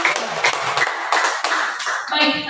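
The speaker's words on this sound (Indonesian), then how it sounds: "Boleh kita tepuk tangan untuk kita semua?" Audience of teachers clapping in a room, a short burst of rhythmic hand claps, close and fairly loud, with some speech mixed in.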